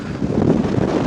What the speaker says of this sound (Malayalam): കാറ്റിന്റെ ശക്തി അറിയണോ?